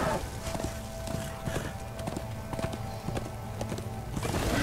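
A horse's hooves clip-clop in a steady, continuous gallop in a video game, with galloping thuds and occasional game sounds over a dense background, loud and close.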